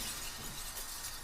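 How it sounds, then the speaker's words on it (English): A rock is smashed through a glass window, a loud crash with shattering glass spreading across the whole short burst and tinkling on throughout. "I nod, and Kudzu lifts the rock above his head before smashing it through the window."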